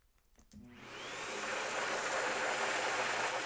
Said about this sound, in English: Let's give it another test here, what I'm calling the vacuum cleaner or the Hoover test.